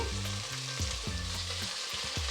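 Thinly sliced beans and carrots frying in a pan while being mixed, a short burst of constant sizzling with stirring scrapes, accompanied by background music and no speech.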